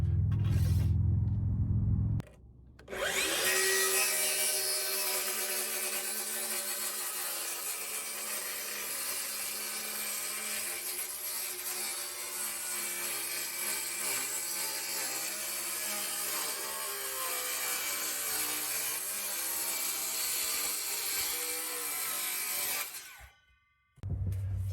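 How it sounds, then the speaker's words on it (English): A wooden board for a homemade wooden grain bin being cut at an angle, a long continuous rasping saw pass lasting about twenty seconds, loud and close, framed by brief quieter moments at either end. "when I cut this next piece that goes down to the side, I'm gonna cut at an angle"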